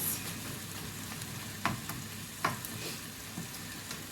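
Pork mince frying in a pan while being broken up, a steady soft sizzle with a few sharp scrapes and clicks of the utensil against the pan, close and unaccompanied by talk.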